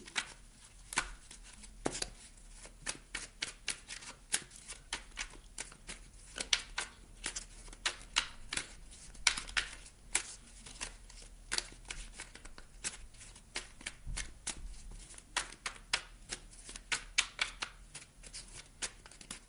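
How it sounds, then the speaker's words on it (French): Tarot deck reshuffled by hand, a close, fairly quiet stream of rapid papery riffles and soft slaps continuing throughout without talk. "Pour les Sagittaires, on va remélanger le jeu."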